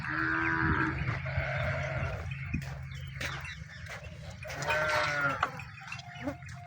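Calves on a village farm give several drawn-out moos, one near the start and another later, over a low rumbling background with faint voices.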